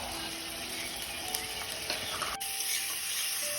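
Spice paste of chilli powder, cumin powder, salt and whole green chillies fried and stirred in a pan, a steady close sizzle with faint scraping strokes and no voices.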